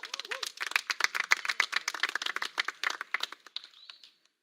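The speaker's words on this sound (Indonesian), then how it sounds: "Kita berikan tepuk tangan yang meriah" An audience at an awards ceremony for a local television association breaks into brisk, lively applause, many close sharp claps in a dense burst that thins and fades away.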